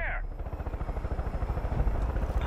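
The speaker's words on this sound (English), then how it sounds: "Oh, it's an attack helicopter." An attack helicopter's rotor beats in a rapid, steady thump in Far Cry 5, loud and close, with a short burst of other game sounds at the edges.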